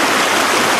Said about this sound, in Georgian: ეს მდინარე მოდის, ხო? ეს პატარა მდინარე